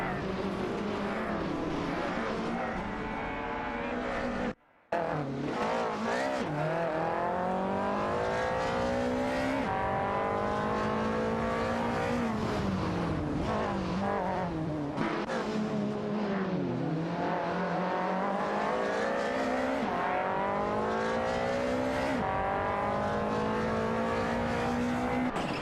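Rally cars, a Citroën BX4C and a Lancia, race in a video game, their engines droning and revving continuously with rising and falling pitch through gear changes, loud and unbroken apart from one brief dropout.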